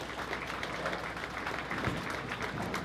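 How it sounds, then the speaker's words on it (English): Faint, sustained applause from spectators at a Canadian team trials bowling tournament, steady rapid clapping throughout with no talk on top. "lots of claps all around for Alex Ann"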